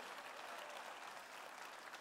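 Applause from a church congregation, a continuous even patter of many hands clapping, soft and somewhat distant, with no voices over it.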